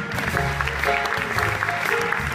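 Applause from a theatre audience at a live big-band show, steady and dense clapping filling the room while the band's sustained tones carry on beneath it.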